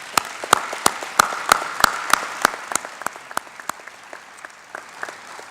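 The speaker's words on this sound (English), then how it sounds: "let's give him a round of applause" Audience applause at a procurement symposium, a steady burst of clapping from a room full of people that starts strong and gradually thins out, with scattered individual claps near the end.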